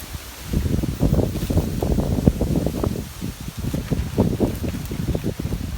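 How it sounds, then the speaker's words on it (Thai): Steady rain falls on a Thai tree plantation overgrown with grass, a dense rushing patter mixed with wind noise on the microphone, loud and continuous throughout. "มาอีกแล้วมาอีกแล้วฝนน่ะ"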